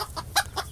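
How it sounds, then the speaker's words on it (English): Chickens clucking close by in a tight space, three or four short bursts of clucks in quick succession, loud and alone. "Move those chickens out of the way"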